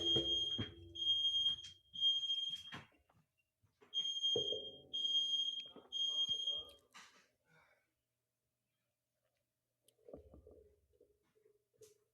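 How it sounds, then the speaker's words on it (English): A home smoke alarm shrills in repeated bursts of sharp, high beeps for several seconds, then falls silent, leaving only a few faint low knocks and shuffles. "smoke alarm's going off"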